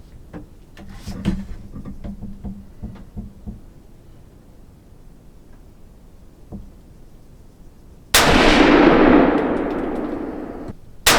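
A single rifle shot from a Savage Axis 110 Hunter XP in .350 Legend firing a 180-grain soft-tip round, a loud sharp blast late in the clip with a long decaying echo, after quiet handling noises.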